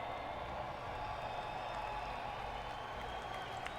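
A large crowd applauds and cheers at a gaming world championship event, a steady wash of clapping and crowd roar that runs the full length without talk on top.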